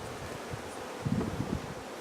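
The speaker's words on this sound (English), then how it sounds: "Come on bees, go down." Honeybees hum softly around an open hive being smoked, a faint steady buzz with light rustling and wind noise close by.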